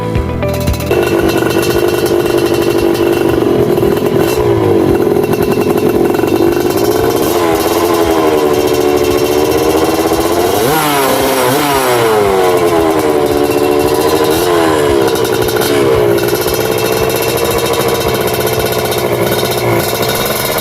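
A loud Suzuki TS 125 motorcycle with a dry racing exhaust close by, idling roughly then revving up and down several times, the exhaust note rising and falling sharply.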